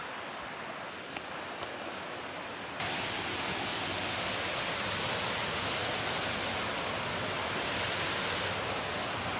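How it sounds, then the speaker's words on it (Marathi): Waterfall at Barki heard from a distance, a soft steady hiss of falling water that grows fuller and louder partway through and then holds evenly, with no voices. "आता पाण्याचा आवाज यायला सुरुवात झालेली आहे. म्हणजे धबधबा आता जवळ आहे आपल्यासाठी."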